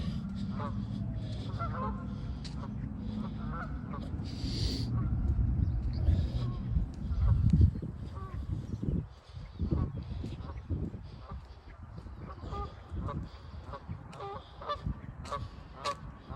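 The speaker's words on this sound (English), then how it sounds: "this place is inundated with geese" Geese honk repeatedly in the distance at a park lake, overlapping calls spread throughout, mixed with outdoor rumble and a person speaking.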